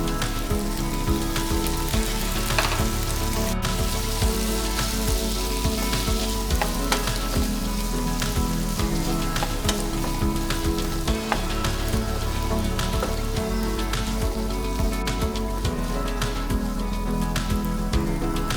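Potato and green bean pieces frying in a pan for a dry Indian fry, a steady dense sizzle with crackling running throughout, close and loud, with no talking.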